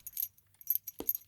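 Keys jingle briefly while a door is being locked, close and light, in short metallic rattles with a louder clink near the end.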